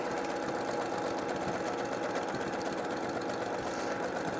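A sewing machine runs steadily, stitching petal details onto fabric with a fast, even mechanical whir and rattle, close and constant throughout.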